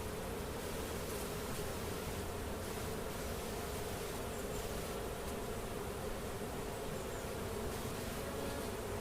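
A dense, steady buzzing of many honey bees close by at an open hive during queen rearing, continuous and loud throughout with no talking.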